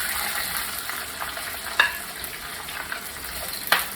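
Green chillies sauté in a pan for rava upma, producing a continuous crackling sizzle. Two sharper spatula knocks stand out against the pan partway through and again near the end.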